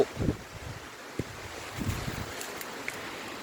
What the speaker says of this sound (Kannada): ಗಾಳಿ ಬೀಸ್ತಾ ಇದೆ